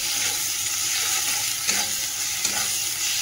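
Spice masala fries in a pan while being stirred, a constant close sizzle broken by a couple of sharp scraping strokes of the spoon against the pan.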